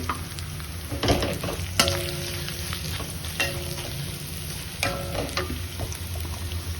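Two crushed dried chillies sizzle and crackle steadily in hot oil in a frying pan, with a continuous close frying hiss and occasional sharper spits and pops.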